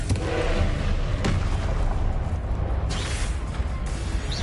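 The Confringo blasting spell in the video game Hogwarts Legacy, PS5: loud, continuous explosive battle noise with a couple of sharp bursts standing out, rumbling heavily throughout.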